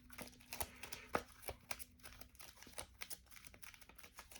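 Playing cards for a Teenage Mutant Ninja Turtles Friday card game are shuffled by hand close by, producing quiet irregular riffling clicks and soft papery ticks with no talking.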